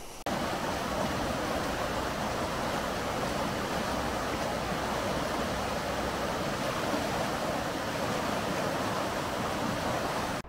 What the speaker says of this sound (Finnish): Tuolla näkyy tuolla taustalla koski